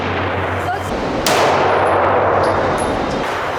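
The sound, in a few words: shot fired from an antique Shanghai Municipal Police pistol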